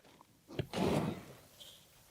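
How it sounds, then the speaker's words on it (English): A drawer on a cabinet built to enclose resin 3D printers slides open in one solid, close, woody clunk with a short rumble lasting about half a second. No one speaks. "Drawer's open."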